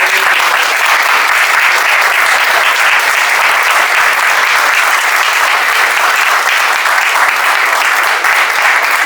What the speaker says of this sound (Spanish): Dar un aplauso a los anfitriones